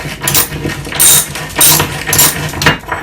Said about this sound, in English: And then you can just take a ratchet. This is a 17, metric 17.